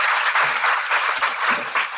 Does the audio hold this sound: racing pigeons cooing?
no